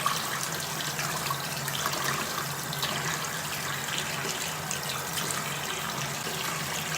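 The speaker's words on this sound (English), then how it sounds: "dip it back in the water" A makeup brush packed with eyebrow product is rinsed and rubbed in water, a soft continuous trickle and swish of running water near a sink, with no talking.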